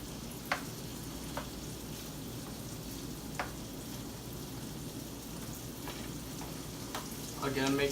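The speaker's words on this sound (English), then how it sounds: "And we begin to saute our onions." Onions sautéing in a hot pan for a Bistec Asado recipe, giving a steady soft sizzle throughout with a few faint clicks of stirring and a slightly louder crackle near the end.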